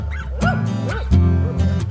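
Close, loud dog barking: a few deep, hoarse barks in quick succession with short gaps between them.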